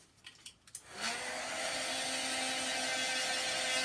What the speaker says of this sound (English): I'm going to dry that real quick.